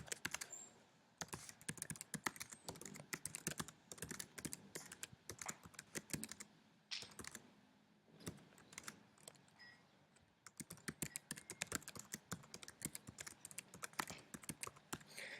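Typing on a computer keyboard into a word-processing document: quiet, rapid, close key clicks in irregular bursts with brief pauses, no talking.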